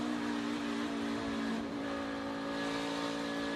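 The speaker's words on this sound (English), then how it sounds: "And you can hear him working the throttle. That car a little bit edgy as he gets on the gas." A NASCAR Xfinity Series race car at Rockingham during practice revs as the driver works the throttle, a steady buzzing engine note with strong harmonic drone, briefly dipping then climbing again, heard alone without talk.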